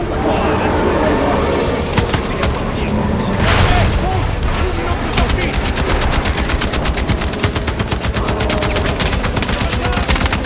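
Rapid machine-gun bursts and gunshots crackle through a Battlefield 6 firefight, dense and continuous over roughly ten seconds, with a heavier boom partway in and excited voices shouting over the battle.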